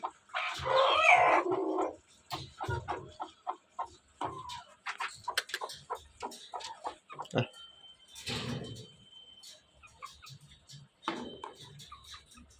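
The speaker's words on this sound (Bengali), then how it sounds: "দেশি মুরগিটাকে" Desi chickens on a rooftop farm cluck and call in short bursts while being fed beetles, close by and intermittent, with a person talking to them between the clucks.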